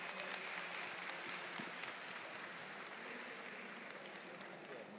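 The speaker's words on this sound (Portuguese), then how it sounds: "Uma salva de palmas." Sustained applause from an event audience at the close of a Brazilian Portuguese talk on the Internet of Things, a dense, steady wash of many clapping hands that holds evenly throughout.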